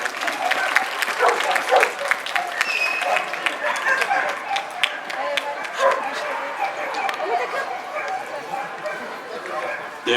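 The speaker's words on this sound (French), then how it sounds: "Un petit applause pour l'amateur." An audience at a dog event applauds an amateur handler with steady, dense clapping for about ten seconds, while dogs bark and whimper and voices talk over the crowd.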